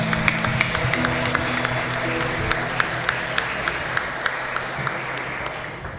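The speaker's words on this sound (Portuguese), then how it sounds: "Aplauda ao Senhor se você pode." Church congregation clapping during a worship service, steady applause with distinct rhythmic claps and sustained musical tones underneath.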